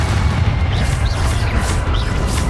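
A fiery Confringo blast spell goes off in a Harry Potter video game, a dense low booming rumble that holds steady through a short burst with no voices over it.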